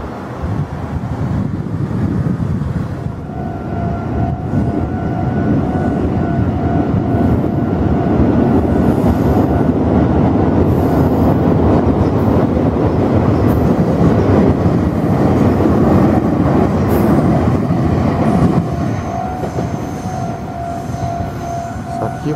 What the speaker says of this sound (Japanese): 先ほど通過してた電車のような感じしますね。